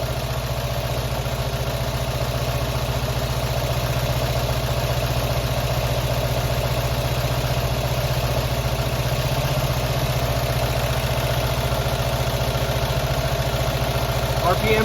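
A classic Fiat 500 engine idles steadily at around 850 to 900 rpm during a setup adjustment, a constant close, even throbbing hum with no change in pace.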